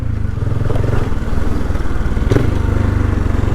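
A motorbike being ridden, with a loud, steady engine drone and rhythmic low throb running continuously throughout, close and without talk.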